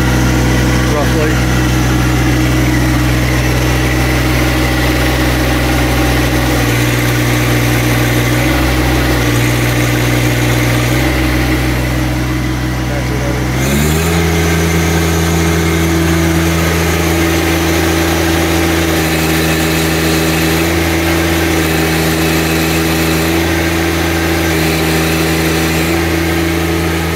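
A John Deere 1025R compact tractor engine runs at about 2500 RPM. It gives a loud, steady close-up drone whose pitch steps up midway and then holds.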